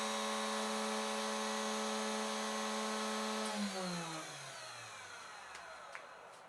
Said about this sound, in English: Now I will try to turn on the spindle with the relay.